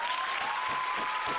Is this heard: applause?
yes